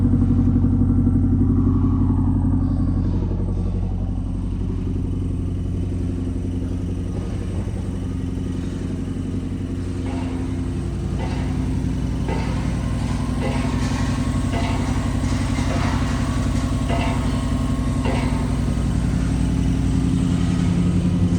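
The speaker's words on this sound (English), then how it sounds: "Here's basically the cold start of my car. Sounds pretty meaty, sounds pretty mean." A Subaru WRX just after a cold start idles close by with a steady, deep, meaty rumble that holds for the whole stretch, with occasional light mechanical clatter and no talking.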